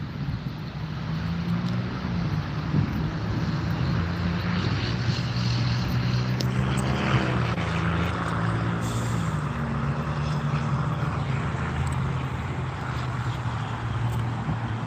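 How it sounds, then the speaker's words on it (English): Aircraft at Teterboro airport, a continuous loud engine roar with shifting tone as planes take off and land, mixed with a steady background traffic rumble. "Planes coming in and planes taking off."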